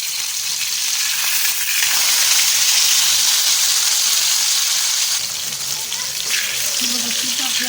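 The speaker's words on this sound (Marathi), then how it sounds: "म्हणून आपल्याला फिशला न झाकताच आपल्याला फिश फ्राय करून घ्यायचं आहे." Rava-coated pomfret fish shallow-frying uncovered in hot oil, a loud, constant close-up sizzle and crackle lasting throughout, with faint shifting as the pieces are turned.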